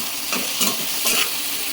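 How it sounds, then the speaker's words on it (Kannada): Sambar masala paste fries in hot oil with a close, bright sizzle and a few soft stirring scrapes across a short stretch. "ಈ ಥರ ಎಣ್ಣೆಗೆ ಹಾಕ್ಕೊಂಡು 1-2 ನಿಮಿಷ ಅದನ್ನು ಚೆನ್ನಾಗಿ ಫ್ರೈ ಮಾಡ್ಕೋಬೇಕು"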